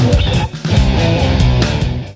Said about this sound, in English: So I used a slow and satisfying drum beat for the first verse of my song